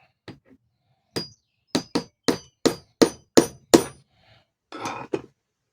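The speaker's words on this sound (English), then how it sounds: "I'm now going to hammer this into here a little bit." Heavy crossbow bolt being fitted with a large insert, struck by a hammer: about nine sharp, evenly spaced blows building up in a steady rhythm, close and fairly loud, ending with a brief scuffling noise.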